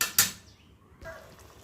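Cooked beef fry is moved into a small pan, giving two quick clattering metal scrapes near the start and then a softer clink and scrape of the pan and spoon close by, with no talking.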